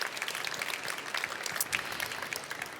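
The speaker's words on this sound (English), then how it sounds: "Big applause" Audience applause at a Formnext Pitchnext start-up event, a steady wash of many hands clapping that continues evenly throughout.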